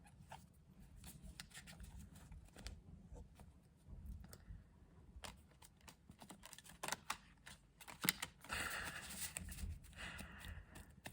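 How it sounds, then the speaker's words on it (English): Tarot cards shuffle in quick, irregular bursts of soft riffling and tapping, close and fairly quiet, with brief pauses between rounds. "And now I need to shuffle some more."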